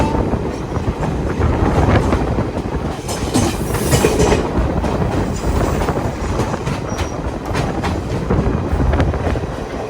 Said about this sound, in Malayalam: നല്ല സ്പീഡിൽ വന്ന് കയറുന്നതാണ് കാച്ചിഗുഡ സ്റ്റേഷനിലേക്ക്